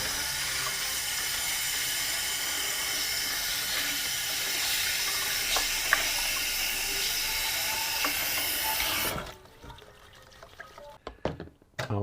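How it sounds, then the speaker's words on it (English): Running tap water rinses perlite off the roots of a Philodendron Shangri-La cutting, a steady broadband wash that cuts off abruptly after about nine seconds, followed by faint handling clicks and drips. "I'm going to wash off the perlite."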